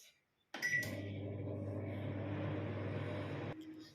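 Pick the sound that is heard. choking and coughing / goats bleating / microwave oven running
microwave oven running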